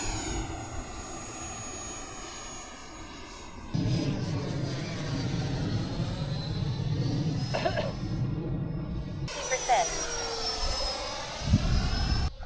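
A model jet aircraft flies at a radio-control field, its turbine whine rising and falling as it passes, with sweeping tonal shifts and a steady roar, no talking.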